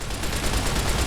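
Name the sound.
12.7mm submachine gun firing in Fallout: New Vegas video game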